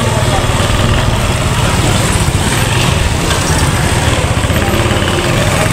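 A motorbike engine runs steadily at close range on an outing to the market, a continuous loud rumbling drone with wind noise and no pauses.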